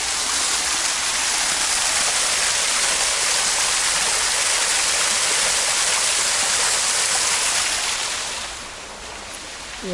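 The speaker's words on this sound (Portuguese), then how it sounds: "Mais uma cascata." Waterfall on a green hiking trail in the Azores roaring in a steady, loud rush of falling water that eases off slightly near the end.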